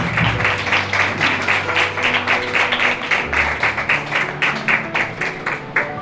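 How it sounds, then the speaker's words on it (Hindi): A church congregation claps loudly and steadily, with dense rhythmic hand-claps filling the space over a low sustained tone in the background. "ऐ जोरदार तालियां चला देते हैं।"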